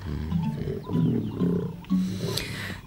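Lions roar in a cartoon about a safari, several deep, growling roars close together, loud and overlapping, with no talking.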